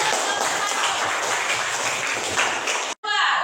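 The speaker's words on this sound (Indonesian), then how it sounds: "terima kasih untuk kelompok 1. Tepuk tangan" Classroom applause for a student group after their presentation, close and dense clapping from many hands with light voices mixed in, cut by a brief break near the end.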